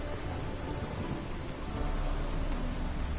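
Steady, dense rain pours throughout a storm in The Witcher video game, a continuous broadband hiss with low rumbling thunder underneath, loud and unbroken with no voices.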